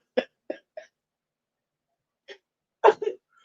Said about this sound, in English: A horse hiccup is like how humans hiccup.